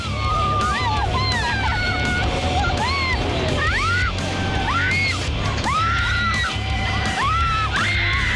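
People scream and shriek over and over on a slingshot amusement ride, which can reach 100 miles per hour. The screams come in loud rising and falling wails, with whoops and yells over a steady roar of crowd and wind.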